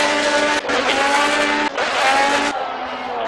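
Race car engine roaring loud and close as it spins out on cold tires at Silverstone in Project CARS, with sharp revving pitch swings and brief drops over a few seconds.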